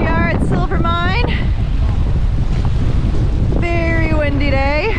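Strong wind buffets the microphone in a constant loud roar at a dam at Silver Mine, Cape Town, while voices speak over it in short bursts.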